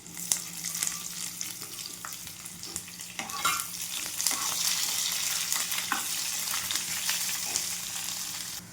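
Onion frying with spices in a pan for jackfruit curry, a continuous close crackling sizzle with scattered stirring scrapes and taps, moderately loud, without speech.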